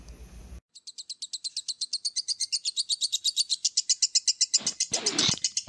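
Lovebirds at a breeding farm give a long run of high, evenly spaced chirps, about two dozen in quick steady rhythm that grow louder, before a brief burst of rustling noise at the end.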